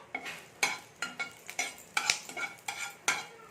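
Black mustard seeds, cumin and curry leaves frying in a little oil, heard as a close, crackling sizzle punctuated by a rapid series of sharp ladle scrapes and taps against the pan, with no voices.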